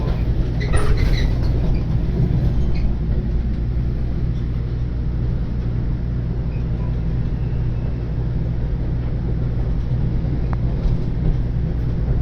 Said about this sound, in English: And now the train finally departs from New York Penn Station.